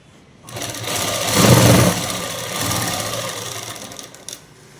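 A sewing machine stitching a dress runs in one continuous close whirring burst, swelling in speed and loudness midway before slowing and stopping with a small clack.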